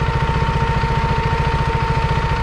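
A motorcycle engine runs steadily in gear with the clutch held, a close, loud low chugging pulse with a constant mechanical whine above it, no talk.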